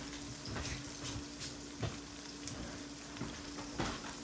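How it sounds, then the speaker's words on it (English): Shallots and garlic frying in a pan for a beef and bell pepper stir fry, a steady soft sizzle with a few faint stirring clicks and scrapes, close and quiet, no talking. "So we're gonna cook up that the shallots and that garlic."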